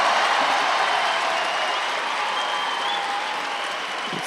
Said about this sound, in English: French crowd cheering on Kylian Leblouch as he makes his way